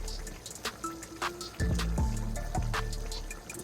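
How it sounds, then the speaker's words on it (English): Palm oil is poured into a pot while cooking Liberian palava sauce. It gives a close, gurgling pour with scattered drips and splashes, and no talk over it. "You're gonna add the palm oil in here like this."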